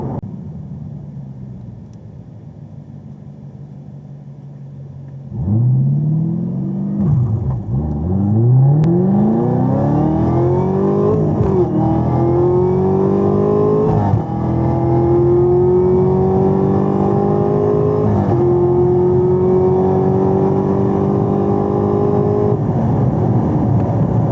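A Camaro ZL1 idles, then launches hard with no-lift shifting, its loud engine note climbing repeatedly and dipping sharply at each quick gear change as the run continues close by.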